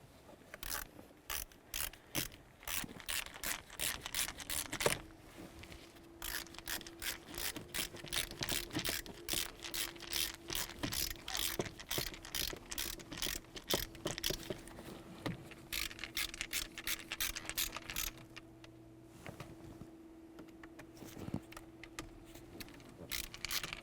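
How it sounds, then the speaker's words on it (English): A screwdriver works Phillips head screws on the steering column of a 2003-2007 Honda Accord, producing faint, rapid repeated clicking ratchet-like turns in bursts, with a low steady hum underneath and short pauses between runs. "install both of those Phillips head screws"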